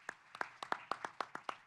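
Brief applause from a panel audience: a handful of separate hand claps in an even rhythm, fairly quiet and close, with no talking.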